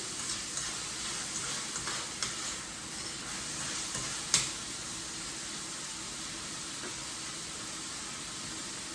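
Steady, bright sizzling hiss of food frying in a pan, with a few small pops and crackles throughout and no talking.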